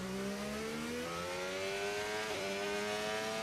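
In the F1 25 racing game, a Formula 1 car engine screams steadily higher toward the rev limiter, a sustained whining tone that briefly dips partway through, then keeps climbing.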